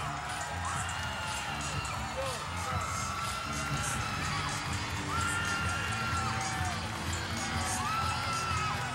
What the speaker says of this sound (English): You can hear the applaud from the Michigan fans.